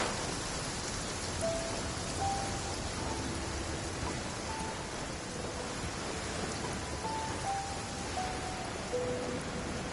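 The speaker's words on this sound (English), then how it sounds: "Rainy days are perfect for spacing out." Rain falls steadily in Genshin Impact, with low thunder rumbling underneath: an even, fairly quiet wash of raindrops with faint tonal notes drifting over it and no voices.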